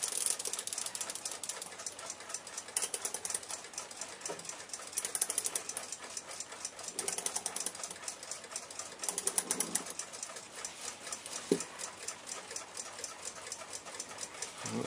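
An unoiled 1906 Nouveau-style alarm clock movement runs under power during a restoration. Faint, rapid, even mechanical ticking goes on steadily throughout, close up and alone, with a dry rattle.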